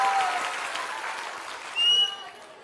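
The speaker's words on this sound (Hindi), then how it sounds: "इनको एक बार जोरदार ताली बजाइए।" A crowd at an outdoor village political rally claps, a dense burst that thins out over a couple of seconds, with a brief whistle or tone rising near the end.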